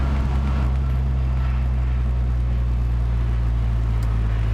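Subaru WRX STI exhaust producing a loud, steady low rumble that holds evenly throughout, close and continuous with no talk over it.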